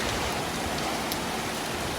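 Heavy storm rain pours down steadily in Khon Kaen province, Thailand, a dense, continuous hiss of drops close by with no breaks across the short stretch.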